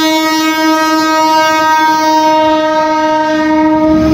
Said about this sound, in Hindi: तो ये आ चुकी है हमारी ट्रेन।